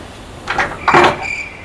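Someone struggles with a stuck house door, producing two short rattling, scraping jolts as the door is pushed and tugged without giving way, loud and close.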